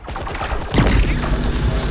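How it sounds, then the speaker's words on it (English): An ion cannon fires in the Transformers Tactica video game: a loud, close burst of rapid crackling blasts that swells into a sustained booming rumble, with no talk. "Just the ion cannon"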